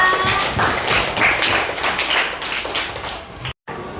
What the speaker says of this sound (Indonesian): Oke, beri tepuk tangan untuk teman-temannya.